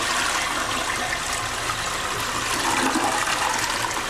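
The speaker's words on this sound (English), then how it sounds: "and flushing the toilet." A toilet flushes with a continuous loud rush of water, steady and close throughout, with no talking.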